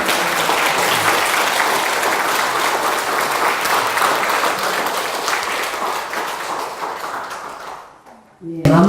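A lecture audience at a Won Buddhist doctrine class gives sustained, dense applause that fills the room for several seconds, fades out, and then a voice begins speaking.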